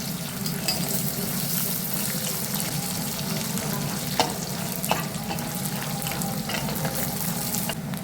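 Peanuts fry in oil in a pan for spicy ashtamod chivda, a steady, close sizzle and bubbling with a few sharp crackles and light stirring clicks near the middle, no talking.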